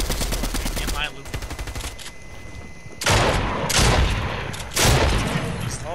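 Gunfire in a video game, a rapid burst of shots followed by two heavy, loud blasts like shotgun fire a couple of seconds apart, close and punchy.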